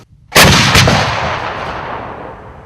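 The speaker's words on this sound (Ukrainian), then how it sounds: "від подібних залпів у звичайних спостерігачів трохи закладало вуха" A single loud artillery gun blast booms close by during a military training exercise, a sharp report followed by a long rolling echo that fades out slowly.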